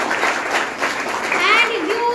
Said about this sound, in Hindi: एक बार ताली बजा लीजिए।